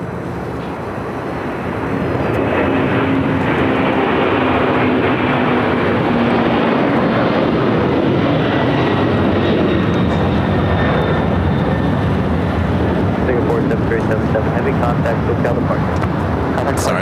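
A heavy Qatar Airways jet lands on runway 25 left at LAX, its loud, sustained engine roar swelling and holding close by, with wind buffeting the microphone.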